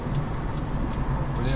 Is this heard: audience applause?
no